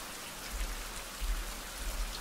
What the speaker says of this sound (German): Da regnet es schon wieder.